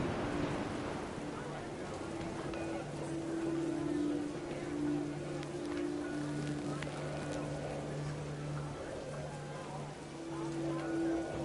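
Heavy rain falls steadily throughout the video game What Remains of Edith Finch, a constant dense wash over a beach-camping scene, with faint tonal music drifting underneath.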